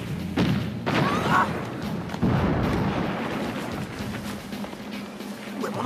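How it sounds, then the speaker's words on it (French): Cannon fire in a kung fu war film, heard as a few heavy booming thuds with rumbling aftermath, the blasts fairly close and dominant, with no voices. "Canon de feu!"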